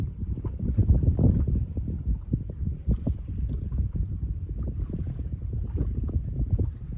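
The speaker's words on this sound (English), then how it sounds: "Got trouble with the wind." Wind blows hard across a lake, heard as loud, low rumbling buffeting against the microphone in uneven gusts from start to finish, with no talking.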